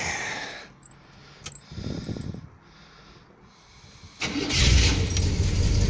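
A 1973 Cadillac Sedan de Ville's 7.7-litre engine cranks briefly, sputters, then catches and settles into a loud, steady idle close by.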